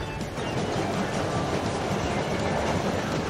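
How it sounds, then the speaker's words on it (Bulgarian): A fast cartoon train rolls along steadily, its rail clatter and rumble staying loud and continuous throughout, with no voices over it. "Да, влакът е бърз."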